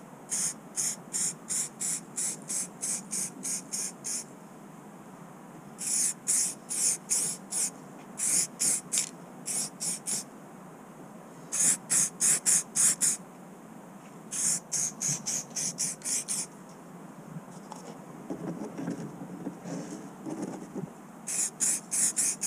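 Short bursts of spray paint hiss in repeated clusters as a coat goes onto a 1/14 scale custom 36-inch coffin sleeper model, a worn part with gouges, each burst sharp and close, with brief gaps between them.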